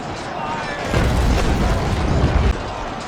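In the naval video game Naval Action, a sailing ship's deck guns fire, producing a loud, rumbling boom that swells and rolls for over a second before cutting off, over a constant background of sea and battle noise.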